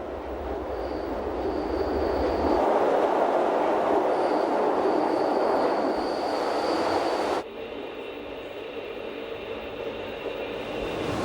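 Glacier Express electric train rolling along Rhaetian Railway meter-gauge track, a steady loud rumble of wheels with faint squeals, shifting abruptly to a quieter hum partway through, with no voices.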